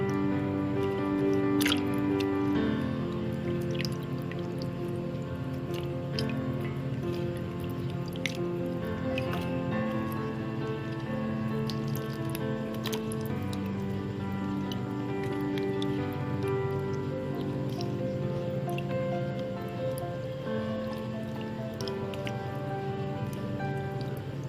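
Raw chicken pieces being washed by hand in water, with steady wet dripping, squishing and sloshing throughout, close and moderately loud with no talk.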